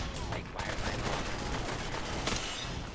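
Dense bursts of gunfire in Fallout 4 aimed at a robot, loud rapid crackling shots running almost continuously with brief gaps, with a voice speaking underneath.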